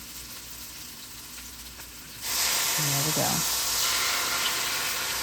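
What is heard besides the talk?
wine sizzling in a hot pan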